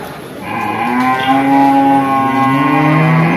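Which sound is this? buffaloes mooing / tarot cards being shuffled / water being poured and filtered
buffaloes mooing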